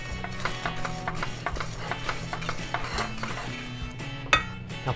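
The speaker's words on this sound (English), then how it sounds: "I'm going to give this a quick whisk, get everything incorporated." Egg yolks whisked in a bowl for lemon bars, a quick run of rhythmic metallic clinks and scrapes of the whisk against the bowl, close and fairly quiet, ending with a sharper clink.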